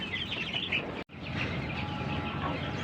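Pelung chicken chicks peep and chirp continuously in a busy cluster, with a brief cut partway through and no talking.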